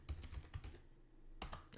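Fingers type on a computer keyboard in quick clusters of soft clicks, a pause, then another short burst of keystrokes, close and fairly quiet with no talk.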